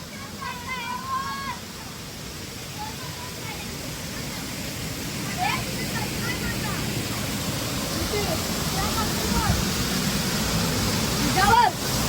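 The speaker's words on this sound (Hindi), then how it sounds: "ये देखो ऐसा झरना है हम लोग का" Steady broadband rush of falling water fills the scene, with people talking and calling out faintly over it.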